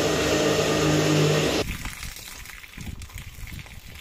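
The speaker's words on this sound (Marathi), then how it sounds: "पाणी टाक, बिस्लरीचं पाणी वापरतो आम्ही स्वच्छ." Bottled Bisleri water poured into a mixer grinder jar to make a paste for Konkani-style biryani: a loud, close gushing splash for about a second and a half, then much quieter clatter.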